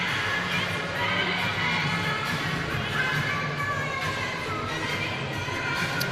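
A packed indoor arena crowd at the UK Indoor Athletics Championships, a steady roar of cheering and chatter throughout, with faint claps and shouts over the constant wash of noise.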